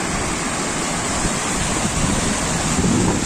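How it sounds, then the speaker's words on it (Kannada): Water flows at a forest waterfall near Bangalore with a steady, dense rushing roar that holds evenly throughout, without pauses or voices. "ನೀರು ಹರಿತಾ ಇರೋ ಸೌಂಡು"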